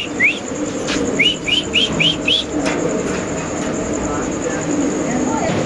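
A Spanish pigeon calls in a series of short, rising chirp-like coos repeated in quick succession, fairly close, over steady background hiss and occasional human voices.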